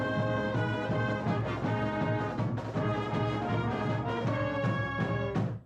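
A Tennessee high school marching band from Fairview plays a full, dense passage of brass and percussion, loud and continuous with rhythmic accents, ending in a sharp cutoff.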